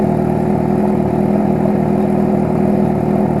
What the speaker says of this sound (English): Hopefully you can hear me while the bike's running.